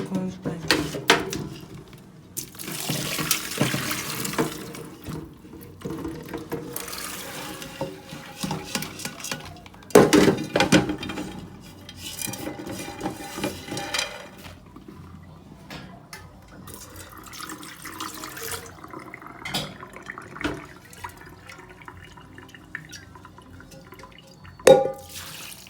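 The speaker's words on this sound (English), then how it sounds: "So I've added cold water. Now just wash it like so and strain it again." Pigeon peas are washed and strained in cold water in a kitchen, with sloshing, dripping and the clink of a pot and utensils, irregular and fairly close.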